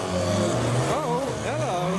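A BMW M6 pulls in at a track day, its engine note rising and swooping in pitch as it passes close by, loud and continuous with a steady low rumble underneath.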